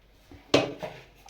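Utensils scrape and clink against a pot while chicken pulao is dished out, with one sharp metallic clatter followed by a couple of softer scrapes, close and fairly quiet.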